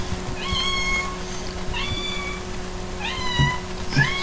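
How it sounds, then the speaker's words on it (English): A cat meows four times at roughly even intervals, each call a clear, close, moderately loud tonal cry over a faint steady background hum with no talking. "Kitty meows."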